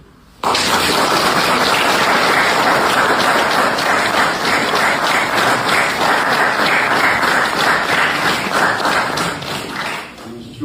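Sustained applause from a large audience at the Nərgiz award ceremony, a dense, loud, continuous roar of clapping that begins abruptly and holds steady for about ten seconds before easing slightly.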